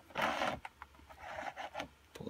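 Needle and thread drawn through leather during hand-stitching for a leather quiver: a few short, close rasping pulls, a longer one at the start and several quicker strokes after, with no talk.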